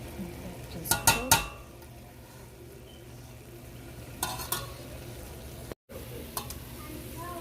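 Ground beef browns in a pan, giving a low, steady sizzle broken by a few sharp clinks and scrapes of a utensil stirring and breaking up the meat.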